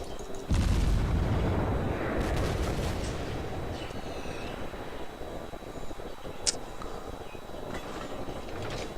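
Heavy naval gun barrages boom in a World of Warships battle, a deep rumbling blast that swells and lingers near, with a sharp crack a few seconds later, no voices.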